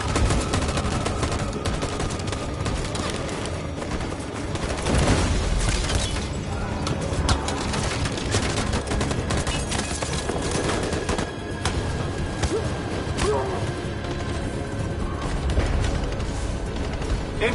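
Sustained bursts of gunfire in a tense shootout from the video game Detroit: Become Human, dense and loud throughout with booming impacts and rattling automatic fire, sound effects layered over a continuous battle rumble.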